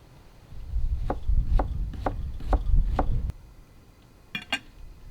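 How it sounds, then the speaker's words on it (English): A knife chops onion into thin julienne strips on a board, five even, close knocks about half a second apart, then a pause and two quicker light taps. "I'm gonna cut the onion, Julian cut, very thin, because we want to fry it."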